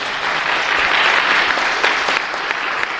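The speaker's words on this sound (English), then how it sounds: "Let's give them a round of applause again." Sustained audience applause at an immigration forum, dense steady clapping from a crowd filling the room, loud and continuous throughout with no talk over it.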